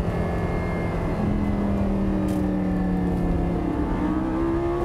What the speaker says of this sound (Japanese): この V10 直噴、パワーが出ただけでなくて、高回転まで伸びますから